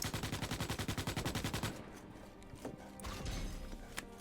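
Automatic gunfire in Starship Troopers: Extermination: a rapid, evenly pulsed burst of shots lasts under two seconds, then gives way to a quieter wash of scattered shots and mechanical clatter.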